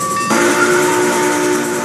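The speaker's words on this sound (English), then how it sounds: "Let's click the whistle." Locomotive horn in the train game Rails Unlimited at about 80 mph, a loud sustained tonal blast starting abruptly and holding steady over rumbling hiss.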